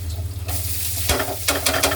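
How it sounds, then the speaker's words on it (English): Rice sizzles and crackles steadily in a hot wok with garlic close up, with scraping stirs breaking in partway through. "you can hear the rice sizzling"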